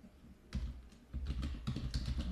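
Quick bursts of clicky keystrokes on a computer keyboard as a folder name is typed, close and fairly quiet, with a short pause before a second flurry of keys.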